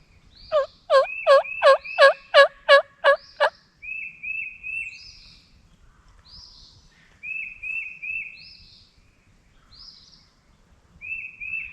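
A wild turkey gobbles during youth turkey season: a loud, rapid run of about nine rattling gobble notes, followed by a string of shorter, clearer yelps and calls repeating in quiet woods, fairly near.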